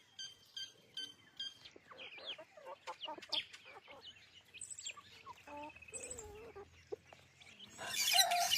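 Chickens on a poultry farm cluck and chirp in a steady, busy chorus of short calls, close and fairly clear, with a low hum underneath and a brief burst of noise at the end.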